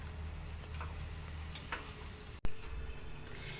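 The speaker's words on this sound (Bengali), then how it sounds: "দেখুন বড়াগুলি কতটা ফুলছে তেলের মধ্যে দেওয়ার পর" Palm fritters fry and puff in hot oil with a steady soft sizzle and faint crackle, one brief sharp knock partway through, no voices.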